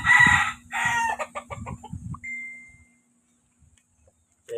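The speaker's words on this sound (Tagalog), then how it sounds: "Ang klase, malaking manok." A large seven-month-old rooster crows loudly and clucks up close, with harmonic bursts early in the clip, then falls quiet before a brief final call.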